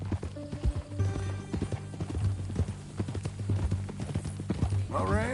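In Red Dead Redemption 2, a horse's hooves clip-clop in a steady walking rhythm close by, with a brief whinny near the end and a voice speaking over the footsteps.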